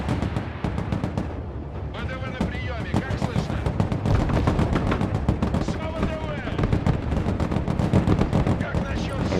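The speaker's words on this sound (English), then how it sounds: "Taking a lot of 50 cal fire." Heavy .50 caliber machine gun fire in the Broken Arrow military strategy game, dense overlapping bursts and battle noise running continuously and loudly throughout.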